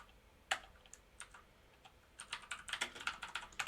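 Someone types on a computer keyboard with a few scattered key clicks, then a faster burst of clattering keystrokes, close but fairly quiet, with no voices.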